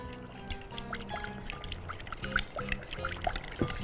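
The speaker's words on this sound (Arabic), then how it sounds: "هحط بقى ايه نسبه زيت زيتون" Olive oil poured over pickled beetroot in a kitchen bowl, a soft continuous trickle and glug with small splashes, close and fairly quiet, with no talking.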